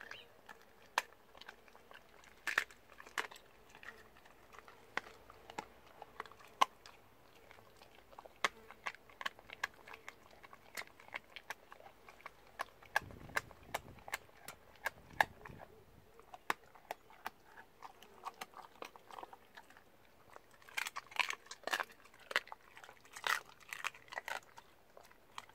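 A spaniel crunches on a raw chicken foot, close up, with sharp crackling bites and wet chewing clicks repeating irregularly throughout, briefly denser near the end, over a quiet background.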